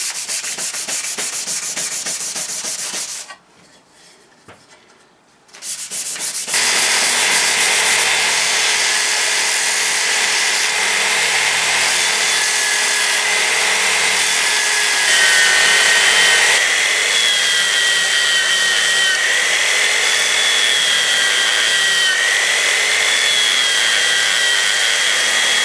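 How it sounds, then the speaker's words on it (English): Loud, steady power sanding rasps across shiny paint on a Triumph heat shield, with a brief quiet pause early on before the gritty whir resumes and continues without stopping. "I had to resort to a power tool"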